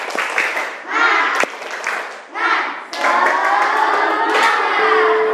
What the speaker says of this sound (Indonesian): sebelumnya kita tepuk semangat dulu.